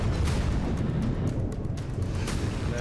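Heavy, sustained roar and rumble from an explosion after an attack in Tartus, Syria, loud and continuous, with deep low-end booming and scattered crackling bursts, no speech.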